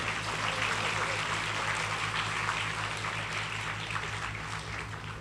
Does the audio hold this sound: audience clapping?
yes